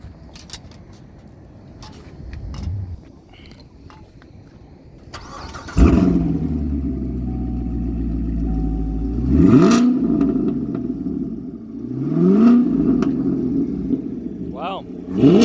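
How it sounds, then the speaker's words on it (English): A car with a modified exhaust at an outdoor car show in Mesa, Arizona, starts up, then settles into a deep, throaty idle broken by two strong revs that swell and fall, loud and close, with brief talk before the engine starts. "Let's hear what your exhaust sounds like."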